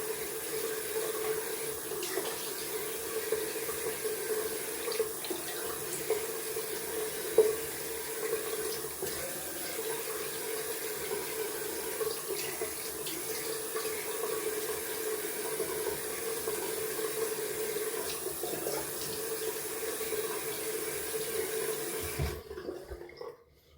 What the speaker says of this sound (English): Gonna rinse with cold water.